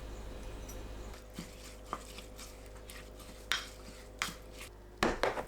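A spoon stirs a seasoning of soy sauce, sesame oil, plum syrup, sesame seeds, chili and chives in a bowl, giving soft scattered clinks and scrapes that grow a little louder toward the end.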